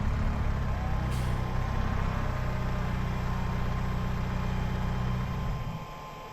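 A truck rumbles in a farming video game, its steady low engine drone close and loud, with a brief hiss like an air brake early on, before the engine note fades as it settles.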